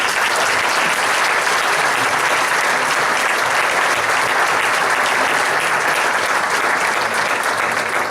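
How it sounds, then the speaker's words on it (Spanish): Loud, dense applause from a large audience at an engineering gala in Vigo, sustained and even for the whole stretch without any voices on top. "Gracias en particular a Marta y a Rosa, para las que pido un fuerte aplauso"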